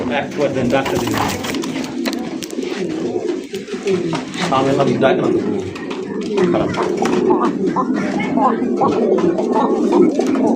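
Pigeons coo steadily at a pigeon sale where fancy, racer, local and foreign birds are kept together; the throaty calls overlap continuously at close range, with people talking throughout.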